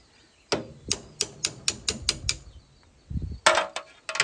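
Hammer strikes knocking out a cotter pin on a trailer wheel hub during bearing replacement: a run of about eight sharp metallic blows at a steady rhythm, then a brief scrape and a few louder hits close by.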